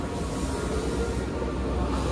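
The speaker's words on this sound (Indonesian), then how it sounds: "Ada kereta api gaya baru Malam Selatan." Gaya Baru Malam Selatan train on the Indonesian southern line rolling past, a steady broadband rumble of wheels and carriages that stays loud and even throughout, with no voices.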